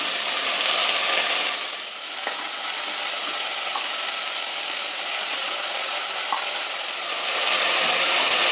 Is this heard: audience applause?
no